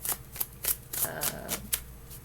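Tarot cards being shuffled by hand, heard as a series of about eight sharp, crisp riffling bursts in quick rhythm, close and clear with no talking.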